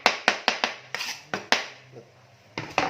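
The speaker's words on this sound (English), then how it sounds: "Chopping the tomatoes on this board" A knife chops tomatoes on a cutting board, producing about ten close, sharp knocks in quick uneven bursts with a brief pause in the middle.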